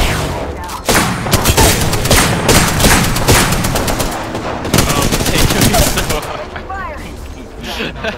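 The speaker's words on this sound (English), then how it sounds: "They're all shooting at me." Rapid gunfire from a multiplayer shooter game, with loud sustained volleys and repeated sharp shots filling most of the stretch, thinning near the end, and voices chattering underneath.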